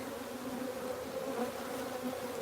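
Honey bees from a very productive but aggressive colony buzz at the hive in a continuous, even drone, close and moderately quiet with no voices.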